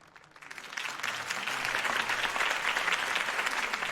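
Crowd applause from a Batman video game, rising quickly after a campaign speech and then holding as steady, loud clapping with no talk over it.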